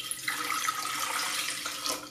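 Three cups of water are poured from a measuring cup into the inner pot of an Instant Pot Duo Mini, a close, continuous splashing and trickling that lasts about two seconds.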